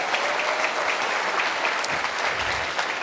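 Keynote audience at the ChefConf 2015 tech conference applauding in a large hall, a sustained, even roar of many hands clapping, slightly distant, with no speech over it.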